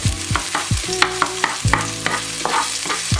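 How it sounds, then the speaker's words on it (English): Green onion and ginger stir-fried over medium heat, a steady sizzle broken by repeated scraping strokes of a spatula against the pan, close and fairly loud with no talking. "And turn the heat to medium and stir."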